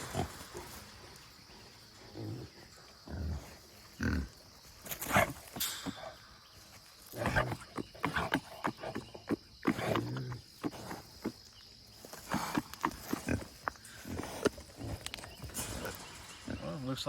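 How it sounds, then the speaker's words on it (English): Wild boars caught in a wire trap grunt, squeal and snort in repeated bursts while thrashing against the cage, with rattling and clanking of metal mixed in. "Got a couple of mean little boars up here."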